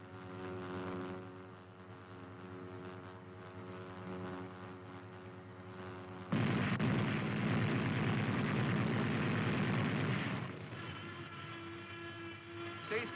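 A .50 caliber machine gun fires a sustained loud burst of rapid rattling shots for about four seconds over a steady droning engine hum, then stops as the engine continues.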